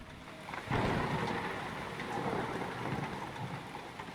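Rain pours steadily on a rainy night in the video game The Suicide of Rachel Foster, with a low rumble of thunder breaking in early and continuous hissing rainfall afterward, no voices.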